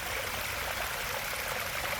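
A small waterfall and stream flow steadily along a forest walking trail, a constant close rush of splashing water with no pauses or voices.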